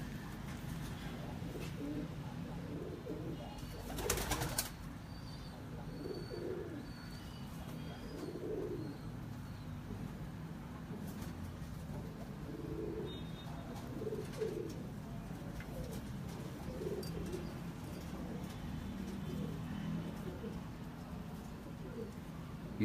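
Pigeons coo softly in repeated low, rounded calls at a moderate distance, spread across the whole stretch over a faint background hum, with one brief louder rustle near the start.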